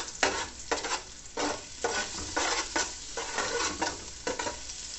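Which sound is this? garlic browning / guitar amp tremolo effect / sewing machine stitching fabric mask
garlic browning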